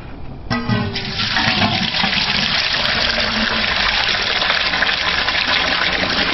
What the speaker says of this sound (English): And we fill that bucket up with the water.